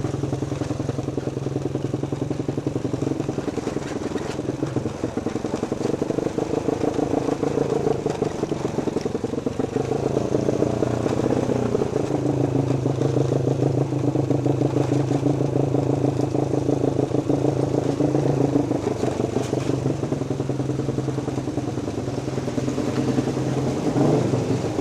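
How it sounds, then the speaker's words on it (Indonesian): A motorcycle engine running steadily while riding a hillside road on a mountain slope, a continuous mid-pitched drone with slight rises in revs and faint clatter, close and loud throughout with no talk. "bergema banget suara motor gua"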